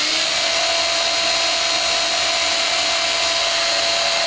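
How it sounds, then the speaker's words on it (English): A small drill bores a tiny hole through a wooden dowel and a potentiometer shaft for a homemade guitar volume pedal, a steady high whine running loud and unbroken throughout. "I'm going to drill a tiny hole right through the dowel, right through the pot shaft"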